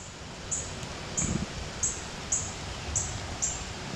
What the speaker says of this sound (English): Birds are even loving it, as you can hear.